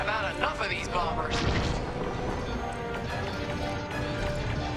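Heavy blaster fire in a Star Wars: Squadrons space dogfight, a dense sustained barrage of crackling shots and explosions under music, loud and continuous throughout.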